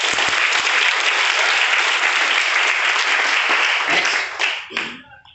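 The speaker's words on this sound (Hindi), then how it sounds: "एक बार अपने लिए शानदार तालियां।" An audience at a business seminar bursts into loud, sustained applause that holds steady for several seconds, then thins out and fades away at the end.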